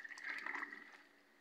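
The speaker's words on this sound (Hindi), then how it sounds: "थोड़ा सा मैं पानी और ले लेता हूँ।" A small amount of water pours into a bowl of paratha dough mixture made with semolina and salt, a soft, close splashing trickle that fades out after about a second with no talking.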